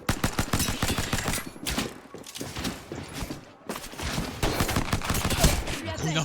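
Rapid shotgun blasts and bursts of gunfire crackle in Apex Legends, dense clusters of shots with short gaps between them.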